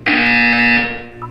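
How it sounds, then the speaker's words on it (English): A loud electronic buzzer from the video game Portal 2 sounds in one sustained, harmonically rich tone lasting about a second, then a short quieter blip follows. "You will hear a buzzer."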